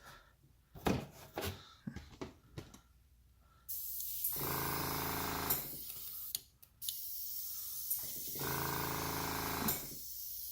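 A spray gun sprays thinned Walmart paint in a workshop, giving two long, steady hissing bursts. Before them come a few shorter hisses and clicks from the sprayer, and the whole sequence is fairly quiet.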